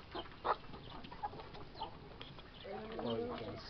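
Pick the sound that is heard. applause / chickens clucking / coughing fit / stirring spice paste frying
chickens clucking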